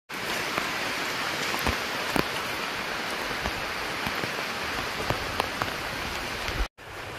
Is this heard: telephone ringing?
no